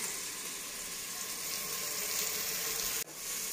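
Chicken pulao ingredients fry in a pan with a steady, close hiss and sizzle that runs throughout, briefly cutting off near the end before resuming, with no voices.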